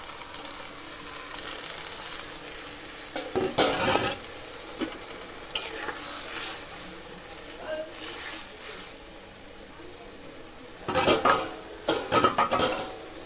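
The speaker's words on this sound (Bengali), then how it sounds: "এবার আমি একে একে মাছগুলো দিয়ে দেব" Pieces of fish dropped one by one into hot oil in a home kitchen pan while cooking a jute-leaf curry, giving steady sizzling and frying with bursts of louder spatter and a spoon scraping the pan.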